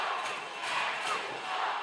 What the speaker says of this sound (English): Twin City fans applauding the save there from Babbitt.